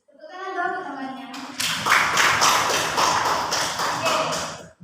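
Someone speaks briefly, then a classroom bursts into loud, close group clapping in a microteaching lesson, rhythmic claps with a steady beat continuing to the end.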